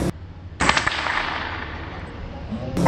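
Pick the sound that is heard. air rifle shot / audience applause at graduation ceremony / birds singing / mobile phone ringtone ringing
air rifle shot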